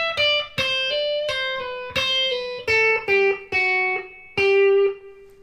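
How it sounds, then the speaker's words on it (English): Electric guitar riff, played solo with distortion: a run of picked notes linked by pull-offs and hammer-ons, clear and close, in short rhythmic phrases with brief gaps. "And then we're going to have the series of pull-offs and hammer-ons."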